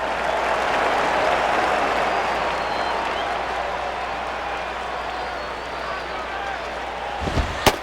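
A stadium crowd in the baseball video game MLB 08: The Show (Florida Marlins at Arizona) reacts to a foul ball with a steady, loud roar and applause, ending with a couple of sharp thumps.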